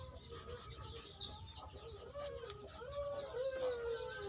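Farm chickens clucking close by in a breeding flock, a faint run of soft repeated clucks and short calls rising toward the end, with no talk.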